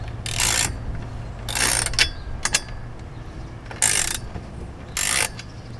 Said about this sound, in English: you can make adjustments to the arm by loosening the two nuts on the side here